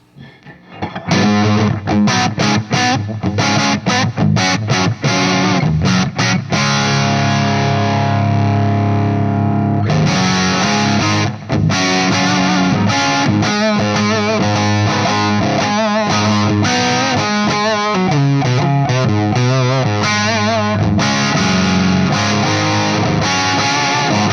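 A heavily distorted electric guitar played loud through a cranked Mezzabarba Z35 amp head, with chugging chords and brief gaps, filling the whole stretch without any voices.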